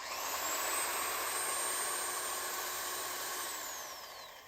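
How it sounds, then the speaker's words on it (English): An old electric drill runs steadily with a high, whining motor hum, fairly quiet and alone, holding one pitch before winding down near the end. "What a fantastic drill."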